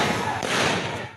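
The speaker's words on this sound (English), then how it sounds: "Gunfire and chaos erupts on the streets of Wamena" A quick burst of cracking gunfire outdoors on the streets of Wamena, several sharp reports blurring together with a faint voice underneath.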